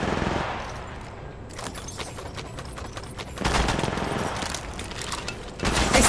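Gunfire in Apex Legends Mobile, a dense sustained fusillade of overlapping shots at varying distances, swelling louder in later bursts amid continuous battle noise.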